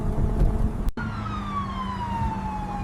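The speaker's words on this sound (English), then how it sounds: "Weird, I wonder why these police cars are driving behind me." A police siren wails steadily with a slowly falling tone over continuous road and engine noise, after a brief sharp break near the start.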